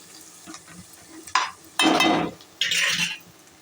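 Washed mutton pieces tipped into a hot frying pan with ginger and turmeric, giving three short bursts of loud sizzling as a spoon stirs and clinks against the pan, with quiet gaps between.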